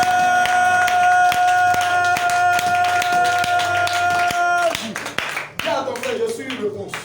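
A church congregation at a French-language service claps rhythmically in unison and acclaims Jesus, loud and close over a sustained musical backing, then breaks into scattered cheering and applause.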